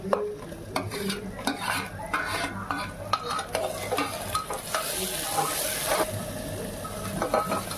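Onion and tomato frying in a pan for a masoor curry gravy, steadily stirred with a spatula that scrapes and taps in a quick irregular rhythm over a continuous sizzle that swells louder partway through, close and without talk.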